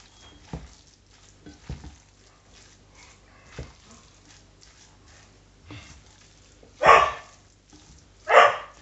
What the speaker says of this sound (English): And the dog's barking.